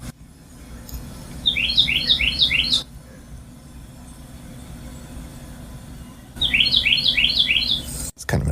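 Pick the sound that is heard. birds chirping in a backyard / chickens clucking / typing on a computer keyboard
birds chirping in a backyard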